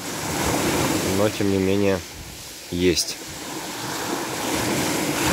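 Rough sea waves wash and break on the shore at Odessa, a continuous roaring surf with wind, while a voice speaks briefly over it.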